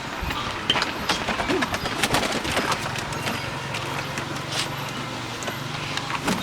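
A pet pigeon recovering from a cat attack coos softly and intermittently at close range, amid light scratching and small knocks.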